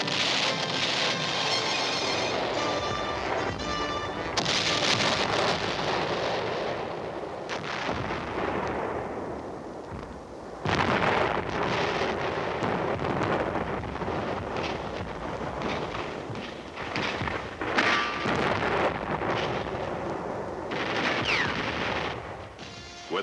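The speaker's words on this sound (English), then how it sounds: "Naval fire made a shambles of German bunkers and batteries in preparation for the assault" Heavy naval gunfire pounding German bunkers and batteries at Normandy, a dense, continuous roar of blasts and rumbling booms with sharp bursts rising out of a constant wash, loud and sustained throughout with no talk.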